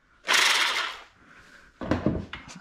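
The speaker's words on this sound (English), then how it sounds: "I have this jigsaw with a fine blade." Jigsaw fitted with a fine blade cutting during a plumbing service call on a submersible pump, a loud buzzing burst of about a second, a pause, then a shorter rougher second cut, close by.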